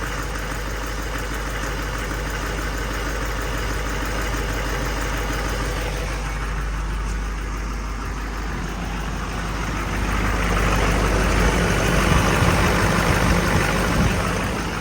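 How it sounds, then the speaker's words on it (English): Duramax diesel engine in a Kodiak/Topkick C4500-C5500 truck idling steadily just after a FASS fuel system install, a continuous low rumble that grows somewhat louder and rougher toward the end, with no talking. "And I didn't hear the engine have a really hard time with the air bubbles."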